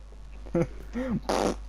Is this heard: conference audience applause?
no